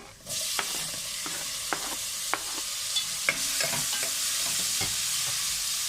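Tomatoes fry in a hot pan for a ridge gourd curry with prawns and dal, a constant loud sizzle punctuated by regular clacks and scrapes of a spatula stirring close by.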